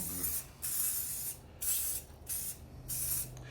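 Four short hissing spray bursts onto chicken drumsticks for smoking, in a steady rhythm, close and fairly quiet, with brief pauses between each spritz.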